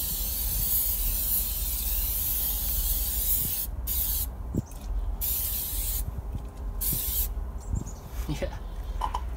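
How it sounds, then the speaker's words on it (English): An aerosol can of Superior Products Cover All tire coating sprays onto a tire in steady hissing bursts, pausing between passes, close by. "I'm just gonna spray some on this too."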